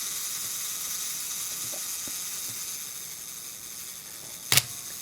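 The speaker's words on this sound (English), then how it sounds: "If we want to try the self timer, we can pull that down, and then we just start it like that" A Pentax ME Super 35mm film camera runs its self-timer with a faint ticking mechanism, then the shutter fires in a sharp double click near the end, close up over quiet room hiss.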